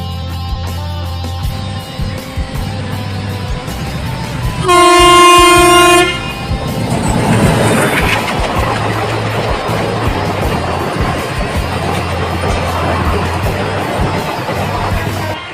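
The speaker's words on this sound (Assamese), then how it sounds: "এই চাওক ট্ৰেইন আহি আছে" A train approaches a level crossing near Nakkati Hill in Bongaigaon, Assam, blowing one long loud horn blast partway through, while the rumble and clatter of the passing wagons build and continue to the end.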